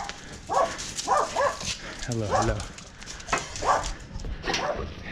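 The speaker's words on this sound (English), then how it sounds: "These dogs, man, no matter how many times I pass, they will on sight kick my ass" Dogs bark and yip at a passing runner on a run, several sharp barks scattered through the clip over wind and footstep noise, with a voice speaking briefly.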